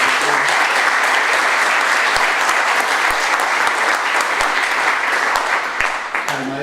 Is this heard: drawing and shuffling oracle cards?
no